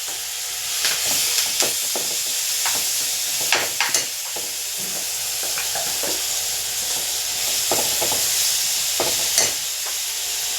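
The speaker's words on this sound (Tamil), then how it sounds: "மசாலா எல்லாம் போட்டு இதில் கலந்து அது எண்ணெயில் போடணும்" Masala-coated pieces frying in hot oil, a steady loud sizzle and hiss running throughout, broken by sharper pops and scraping stirs at irregular moments, with no voice.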